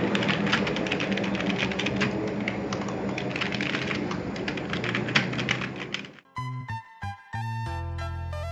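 Typing on an NYK K-01 tenkeyless membrane gaming keyboard with rubber dome switches, a fast, dense run of soft close-up key presses for about six seconds, then a few separate tones.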